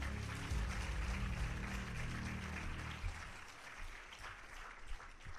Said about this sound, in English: now I want you to give your best applause